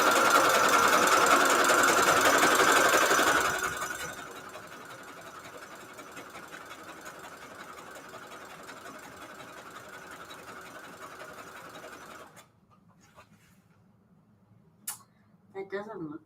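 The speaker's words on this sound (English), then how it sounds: "let me get the sewing machine close to my eyes and my face to assure I do this correctly" A sewing machine stitches paper signatures for a Valentine's Day junk journal, whirring loudly and close for about four seconds, then running on as a quieter steady hum before stopping, followed by a few scattered clicks.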